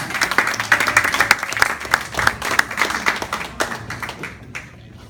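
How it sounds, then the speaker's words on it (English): A crowd applauds with dense, steady clapping that gradually thins out and fades toward the end. "Let's give her a round of applause."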